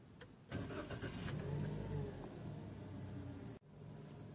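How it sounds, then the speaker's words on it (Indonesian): A Toyota Calya / Daihatsu Sigra car engine cranks briefly and catches, then settles into a steady mid-pitched idle heard close and clear, with a short drop near the end. "Tunggu beberapa saat, kemudian setelah mati baru kita lakukan starter."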